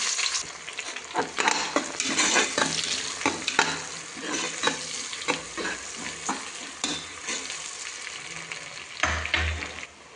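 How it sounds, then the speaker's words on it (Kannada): Onions frying in hot oil inside a pressure cooker, a steady broadband sizzle with repeated sharp scrapes of stirring, close and fairly loud, no voices. "ಎಣ್ಣೆ ಕಾದಿರೋ ಎಣ್ಣೆಗೆ 2-3 ಈರುಳ್ಳಿ ಹಾಕ್ಕೊತಾ ಇದ್ದೀನಿ"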